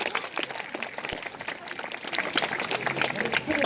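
A crowd claps steadily for a cockatoo at a bird show in a Melbourne wildlife sanctuary. The applause is dense and continuous at moderate distance, with people talking faintly underneath.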